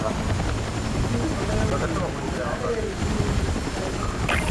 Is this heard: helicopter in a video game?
yes